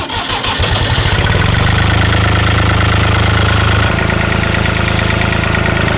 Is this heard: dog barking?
no